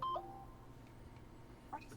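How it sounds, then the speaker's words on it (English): A phone sounds a couple of short electronic beeps, one right at the start and another near the end, faint and close against a quiet room during a tabletop game session. "What is that noise? It's my phone, sorry."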